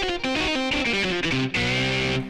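Heavily distorted rock guitar chugs through a driving power-rock rhythm in 4/4, loud and dense with sustained overdriven chords and brief gaps between phrases, with no voices over it.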